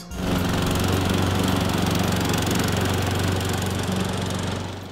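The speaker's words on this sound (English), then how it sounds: "So he's been mowing the lawn" A lawn mower runs steadily and loudly up close for the whole stretch, a continuous droning engine with a rough buzz and no voices over it.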